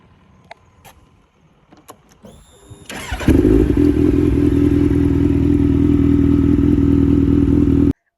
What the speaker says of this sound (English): So this has got a 4-cylinder. It's got a really nice exhaust, sounds very clean and powerful.